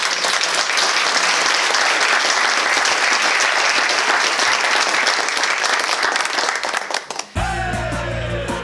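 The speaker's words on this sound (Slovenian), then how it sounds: "pa si lahko zaploskamo" An audience at a Slovenian businesswomen's event applauds in a steady, loud round for about seven seconds, then it cuts abruptly to music.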